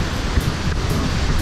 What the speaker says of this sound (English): Yeah, it is pouring.